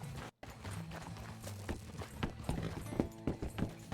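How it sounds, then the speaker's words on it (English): Wild horses gallop past in the Red Dead game world, a dense run of clip-clopping hoofbeats that builds and carries on steadily at close range. "those are wild horses"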